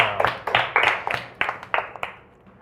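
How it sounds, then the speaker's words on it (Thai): Pupils in a Thai primary maths class clap for a classmate who gave a correct answer. The claps are moderately faint and fall in a fairly steady rhythm, with light voices murmuring underneath. "ปรบมือให้อาร์ตหน่อยครับ"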